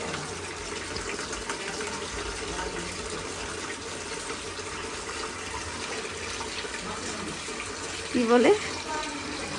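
Water runs steadily into a bathing bucket outdoors, a continuous close rushing pour, with a voice speaking briefly near the end.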